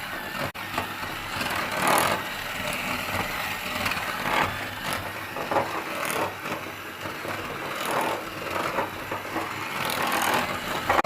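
An electric hand mixer whirs continuously while beating butter, sugar and egg together for pistachio biscuit dough, a steady motor drone with rhythmic scraping surges through the bowl.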